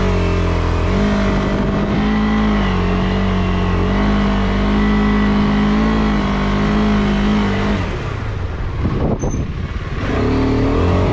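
A KTM motorcycle descends a trail in first gear under engine braking, its engine droning steadily up close, easing off, then briefly rising again near the end, with no talking.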